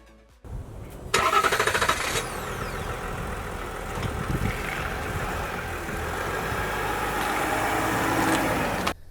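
A Chevy Silverado ZR2 pickup truck's engine cranks briefly, then catches and roars to life before settling into a steady, loud idle close by.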